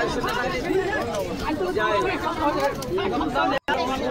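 Pigeons coo faintly among the crowd chatter and babble of a busy pigeon market in Beldanga, with someone speaking close in the foreground.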